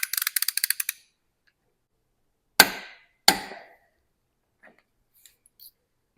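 A Snap-on torque wrench set to 150 foot-pounds: a quick burst of light ratcheting clicks, then two sharp, loud, close metallic clicks about a second apart, followed by quiet.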